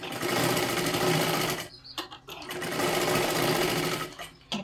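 An electric sewing machine stitches lace onto a blouse, running in a fast, steady whir that pauses briefly twice before resuming, loud and close.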